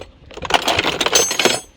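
Metal hand tools clatter and clink in a jumbled burst as someone rummages through a big box of tools, close by and without talking.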